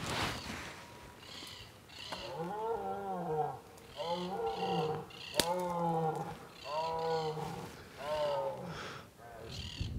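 A free-range red stag roars on a ranch in La Pampa, Argentina, giving a series of long, deep, harmonic bellows in repeated bouts with short gaps between them, fairly close and loud.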